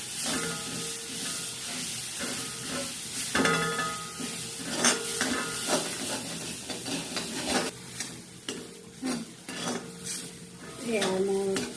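Mustard and tomato being stir-fried with salt in a pan make a close, quiet sizzle under repeated metal spoon scrapes and clanks against the pan, with no talking.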